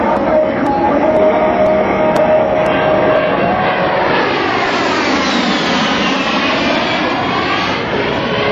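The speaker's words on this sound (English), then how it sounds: "Demonstrates the A-10's precise handling characteristics." An A-10 Thunderbolt II jet roars loudly and steadily overhead during an air show display, a continuous broad engine rush with a shifting whine as it passes.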